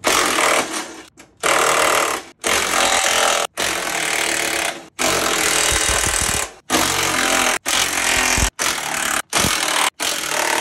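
A loud impact wrench rattles in repeated bursts removing skid plate bolts on a RAM TRX or Rebel pickup, stopping and starting about a dozen times with short silent gaps between.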